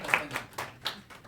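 A few scattered hand claps from a small group at an activists' meeting, four or five separate soft claps spread over a second rather than full applause.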